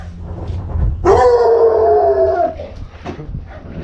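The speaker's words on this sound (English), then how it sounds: "We are here and the hounds are following." A coon hunting hound lets out one loud, drawn-out howl lasting over a second, close by, with scattered lower barking and rustling before and after.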